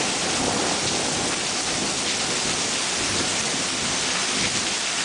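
A steady roar of heavy rain pours down during a close lightning storm in Royal Palm Beach, with thunder rumbling through the downpour continuously.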